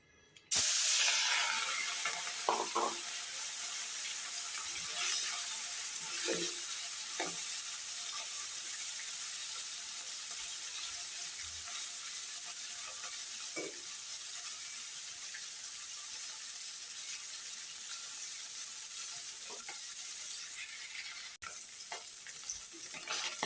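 Small fish sizzling and crackling steadily in hot oil in a wok, a continuous close hiss for the whole stretch with a few faint clinks and stirring knocks, no talk.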